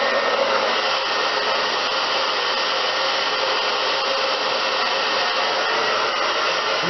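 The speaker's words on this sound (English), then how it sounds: "I'm going to blow dry my hair" A hair dryer blow-drying hair, a loud, steady roaring whoosh that continues unbroken from start to finish.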